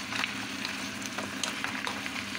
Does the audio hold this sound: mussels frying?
yes